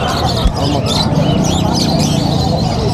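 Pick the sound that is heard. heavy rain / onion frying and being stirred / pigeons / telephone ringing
pigeons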